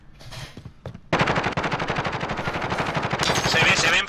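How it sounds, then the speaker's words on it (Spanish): Rapid automatic gunfire in the video game Warzone, loud and sustained in dense bursts that start abruptly and keep hammering, with voices talking briefly beforehand. "Nos han disparado, eh."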